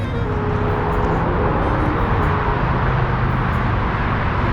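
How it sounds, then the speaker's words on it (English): Dense, steady roar of road traffic heard from the High Bridge in New York City, loud and continuous with no gaps or voices. "now with all this traffic"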